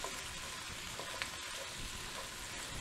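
Sausage and feta stir fry sizzles softly in a hot pan as it gets a quick mix, a faint, even hiss with a small scrape partway through.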